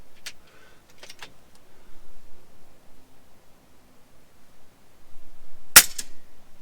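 A single sharp, loud crack from an FX Impact air rifle firing, abrupt and close, rising out of quiet room tone after a few faint clicks and handling noises.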